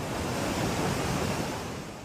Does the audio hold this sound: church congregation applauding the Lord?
no